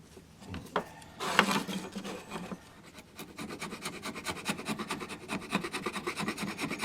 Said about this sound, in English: scrape off this.